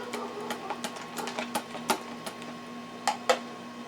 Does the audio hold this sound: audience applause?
no